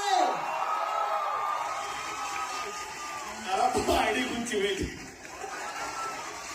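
A premiere crowd claps and cheers, a steady wash of applause with whoops swelling around the middle, while people talk over it.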